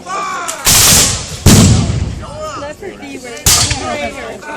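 Loud booming musket gunshots and artillery cannon blasts crack out several times at a War of 1812 re-enactment in Grimsby, each followed by ringing noise, with a voice talking between the bursts.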